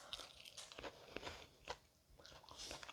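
Bites into crunchy breaded chicken katsu with lemon and ginger, a run of close crisp crackling crunches and chewing in irregular bursts, fairly quiet, with no talk.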